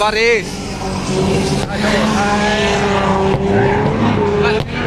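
A car drifts at the Northern Festival of Speed, its engine revving hard and loud with squealing tyres sliding close by, while people talk over it.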